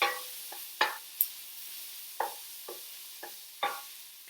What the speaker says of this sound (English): give your curry a good old stir